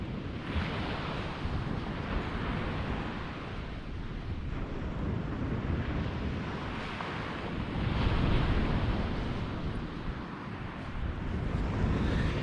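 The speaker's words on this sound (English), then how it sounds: "it got a bit windier, and as soon as the wind turns up" Wind gusts across a beach on the Holderness coast at Tunstall, a continuous loud roar of buffeting microphone noise mixed with the wash of surf, swelling and easing in strength throughout.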